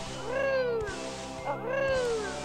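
Cat meows from the video game Banjo-Tooie, two drawn-out rising-and-falling meows in a row, loud and close, heard alone over a steady low game background hum.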